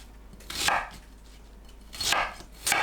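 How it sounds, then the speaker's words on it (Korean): A knife chops an onion into quarters or eighths on a cutting board, three separate crisp thunks spaced about a second apart, close and clear with no talking. "양파를 크기에 따라 4등분에서 8등분 합니다."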